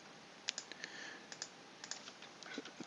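Keys clatter on a computer keyboard in irregular light taps while details are typed in, close and faint against a steady background hiss, with no talk.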